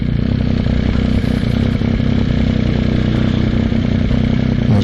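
A motorcycle engine runs loud and close with a steady, rumbling drone that holds throughout, no voices over it.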